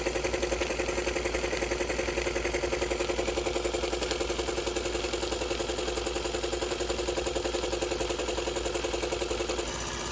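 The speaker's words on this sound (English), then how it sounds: "As you see, the engine's has a more labored sound to it" A Jensen 20G electrically operated steam engine runs steadily with a labored, rhythmic chugging, close and continuous, with no talking over it.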